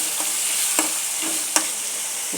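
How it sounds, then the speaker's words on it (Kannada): Tomato and coriander fry in oil for Hubli-style girmit, giving a continuous close sizzle broken by a few sharp clicks of a spatula against the pan. "ಟೊಮೆಟೊ, ಕೊತ್ತಂಬರಿ ಹಾಕಿ ಸ್ವಲ್ಪ ಬೇಯಿಸ್ಕೊಳ್ಳಿ. ಮತ್ತು ಫ್ರೈ ಮಾಡ್ಕೊಳ್ಳಿ."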